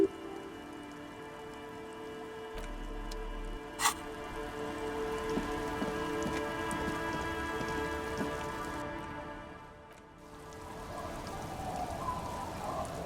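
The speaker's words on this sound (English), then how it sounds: "It's getting late, and it's raining." Rain falls in the video game Disco Elysium, a soft, continuous patter on surfaces with a few faint clicks, dipping briefly before resuming, without any voices.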